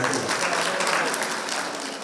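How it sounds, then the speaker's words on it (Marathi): Loud, sustained clapping from a large audience at a Diwali morning arts program in Saswad, a thick even roar of hands that holds steady from start to finish with no talking. "जोरदार टाळ्या होऊन जाऊ त्यांच्यासाठी."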